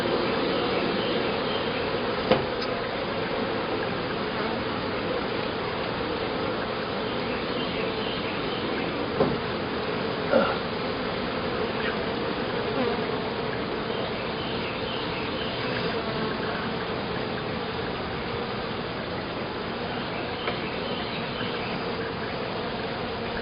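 Honeybees from a swarm colony buzz steadily throughout an open hive inspection, a dense continuous drone with a few light knocks and clicks of hive parts against it, close and fairly loud, with no talking.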